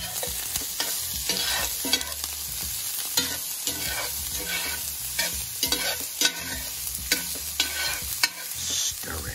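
Onions frying in oil in a pan while being stirred with a utensil, a steady sizzle broken by repeated scraping strokes, close and clear, with no talking.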